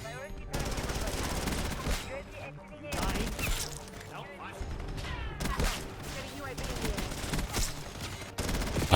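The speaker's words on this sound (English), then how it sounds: "If you compare the original sound of the ppsh in this game, then you compare it to how it sounds with rapid fire" Rapid-fire bursts from a PPSh submachine gun in the video game Black Ops 6, loud and dense with very fast shots, broken by brief pauses between long strings of automatic fire.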